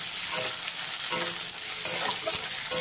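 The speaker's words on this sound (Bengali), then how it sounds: "পেঁয়াজটা দিয়ে নেওয়ার পরে পেঁয়াজটাকে হালকা লালচে করে ভেজে নিতে হবে" Chopped onion frying in oil in a pan for a rohu fish and raw papaya dish, a close, steady crackling sizzle with faint stirring scrapes, no voices.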